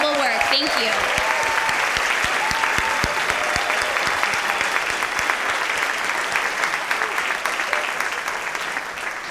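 An audience at a national youth arts week theater event applauds the panelists with dense, sustained clapping that fills the room from start to finish; a voice is briefly heard near the beginning.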